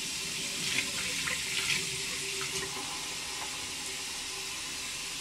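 Tap water runs steadily into a sink while hair is wetted, a continuous close splashing hiss with a few brief louder splashes and no talking.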